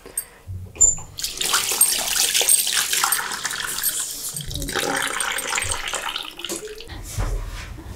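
Water splashes and runs in a basin as silk fabric is soaked for natural dyeing, a close, fluctuating wash of sloshing and trickling with short pauses.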